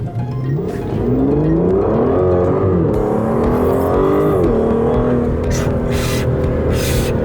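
An Aston Martin pulling away hard in first gear, the engine note climbing steadily in pitch, loud and close, with a brief dip around a shift point before rising again.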